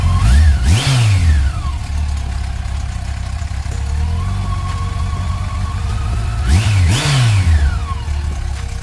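A Yamaha FJR1300 sport-touring motorcycle's 1298cc inline-four engine idles loudly, then revs sharply twice with rising and falling whines, settling back to a steady idle between.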